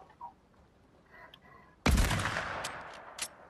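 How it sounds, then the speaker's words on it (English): Gunshots in Fortnite, quiet ambience broken by one loud close blast with a lingering tail and a fainter follow-up shot. "I've shot you so many times, but it did no damage."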